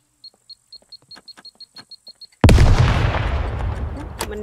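Explosive arrow detonating in the survival game SCUM, a sudden loud blast that rolls into a long rumbling roar, preceded by a steady series of faint high electronic beeps.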